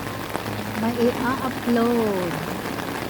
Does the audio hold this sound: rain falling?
yes